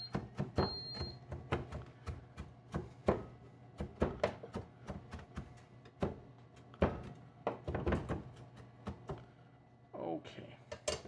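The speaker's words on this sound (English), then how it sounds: "we're gonna finish rough chopping our parsley" Repeated knife taps on a cutting board as parsley is rough chopped, in an irregular rhythm, close and crisp, with a low hum in the background.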